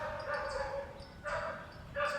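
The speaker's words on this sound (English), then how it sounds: "Sorry about the barking dogs and construction happening in the neighborhood." Dogs bark in a residential neighborhood amid construction, a few short yelping barks at a distance set against steady background noise.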